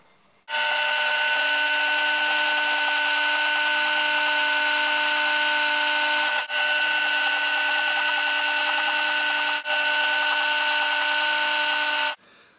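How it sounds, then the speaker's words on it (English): Drilling holes in wood for a lion lamp's lights, a loud steady high-pitched whine held for several seconds in three long runs split by two brief breaks. "I already got started drilling the holes for the lights."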